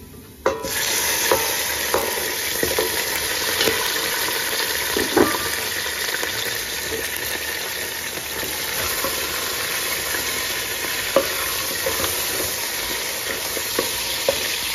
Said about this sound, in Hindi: प्याज हमारी ब्राउन हो गई और अब इसमें मैं ये गोश्त डाल रही हूँ